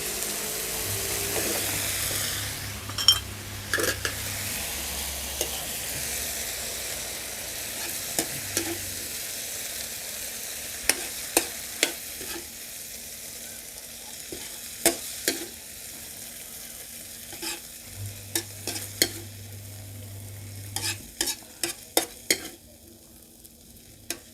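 Minced pork ribs being stir-fried with holy basil in a pan, giving a steady sizzle under repeated clinks and scrapes of a spatula against the pan, close and continuous.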